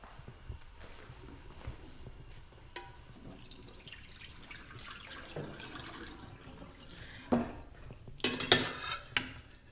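Water from boiled tofu is poured off into a colander: soft trickling and dripping at first, then louder clattering of a metal pot and utensils near the end, with no voices.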